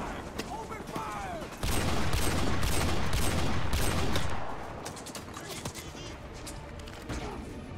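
Call of Duty Modern Warfare 2 campaign firefight: bursts of automatic gunfire and scattered shots, loud and dense in the middle then thinning to sporadic cracks, with voices shouting under the combat.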